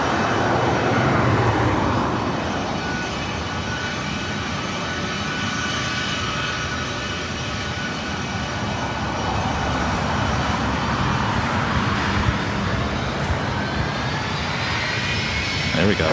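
Airliner jet engines spool up and roar on takeoff from runway 24 right at LAX, a loud, sustained broadband rumble with a rising whine that holds steady throughout, with radio chatter over it.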